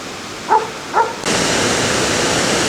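Several little waterfalls on the Presque Isle River in Michigan make a loud, steady rushing roar that starts abruptly partway through, after two short dog barks.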